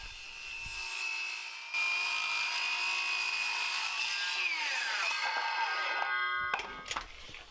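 A power saw cuts wooden pieces for a workbench top to length: a steady high whine carries through the cut, then winds down after about six seconds, followed by a few knocks of wood, near and alone.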